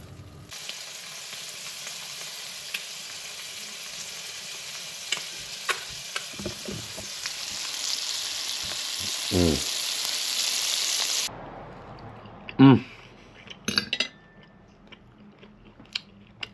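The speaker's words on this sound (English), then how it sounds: "Cooking up a nice grass-fed filet." A grass-fed filet steak frying in a pan gives a steady close sizzle for about eleven seconds, broken by a few sharp clinks, then quieter handling knocks and clatter follow.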